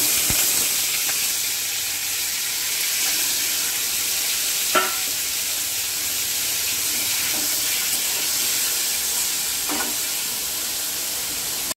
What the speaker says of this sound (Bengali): এবার একটু সাদা তেল দিয়ে দেবো, পনিরগুলো ভেজে নেব।